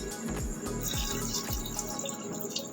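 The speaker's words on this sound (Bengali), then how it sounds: "একটু মতন জল দিলাম" Water poured into a pot for chicken stew, a close, bubbling gurgle of liquid streaming in with splashy drips, fading out toward the end.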